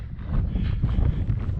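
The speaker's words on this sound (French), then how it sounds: "Ah, il y a du vent aussi là. Il y a du vent." Gusty wind buffets the microphone at the Cosinus old mine site in New Caledonia, a rough low rumble that swells and eases over a couple of seconds, close and fairly loud.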